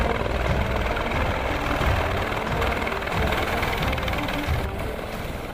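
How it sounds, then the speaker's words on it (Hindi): Helicopter near a helipad during a supply landing in a remote disaster-hit village, a steady loud rotor and engine roar filling the whole stretch with no talk. "लाटा हेलीपैड से हेलीकॉप्टर की लैंडिंग होती है"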